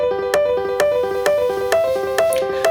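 Two rhythmic patterns, a triplet feel and a straight binary beat, play together in an electronic music production, their repeating tonal notes and sharp regular hits clashing audibly over several bars with no talking.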